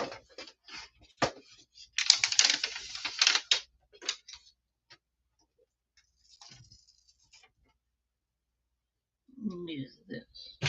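Fingers type on a computer keyboard at a crafting desk, starting with scattered single clicks and then a dense, rapid burst of keystrokes for a couple of seconds, followed by sparse taps, quiet gaps and a brief low voice at the end.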